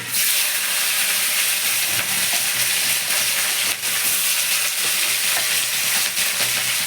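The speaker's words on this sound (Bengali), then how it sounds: "গরম হয়ে গেছে কালো জিরে ফোড়ন দেবো পেঁয়াজ দেবো" Loud, continuous sizzling and hissing of nigella seeds and onion frying in hot oil, with faint spatters and a brief dip midway.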